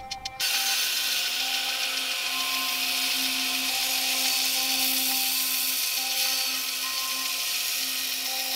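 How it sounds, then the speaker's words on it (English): A belt grinder running a 36 grit belt over a 14 inch contact wheel grinds the edge of a forged Viking-style axe, giving a loud, steady abrasive hiss with a constant motor whine throughout, and no talking. "I'm going to move to a 36 grit on a 14 inch contact wheel and start grinding our edge and polish it all the way out."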